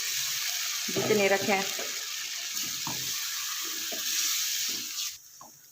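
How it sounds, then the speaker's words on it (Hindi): Water is poured into a pot of mutton and lentil curry, setting off a loud steady sizzle, while someone speaks briefly over it. "ये देखें मैं इसमें तकरीबन 1 गिलास पानी शामिल कर दूँगी"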